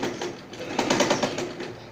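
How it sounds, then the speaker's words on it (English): A sewing machine stitches a sleeve into an armhole on an A-line kaftan, a quiet rapid mechanical whirring that speeds up briefly in the middle, close and alone. "So I'm sewing the sleeve into the armhole."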